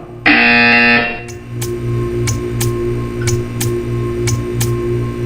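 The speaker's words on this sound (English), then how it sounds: "You will hear a buzzer." A loud electronic buzzer in Portal 2 sounds for under a second, followed by a steady series of sharp ticking clicks over a low background hum.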